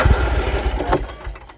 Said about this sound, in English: Fire it up for you.